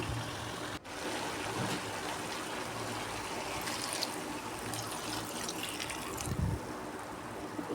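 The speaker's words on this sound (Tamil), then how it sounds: "தண்ணி நிறைய ஊற்றக்கூடாது, கொஞ்சம் லேசாக ஊற்றிக்கணும்." Water poured into a potato and brinjal stir-fry cooking in a pan, a steady broadband wash of trickling and sizzling that runs for several seconds with no voices.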